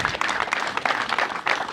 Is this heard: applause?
yes